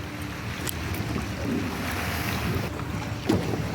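Houseboat out on open water near Kolkata, with steady wind and water wash rolling beneath the breeze-buffeted microphone, no voices.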